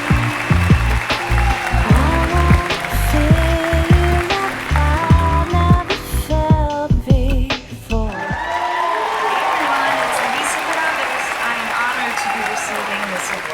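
Audience applause fills an awards gala hall, rising as a dense, steady clatter of many hands once loud music with a pounding beat cuts out, continuing evenly to the end.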